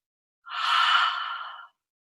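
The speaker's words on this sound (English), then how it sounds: "Take a breath in through the nose. And exhale through the mouth." A single long exhale out through the mouth during a yoga practice, a close, breathy whoosh lasting just over a second against silence.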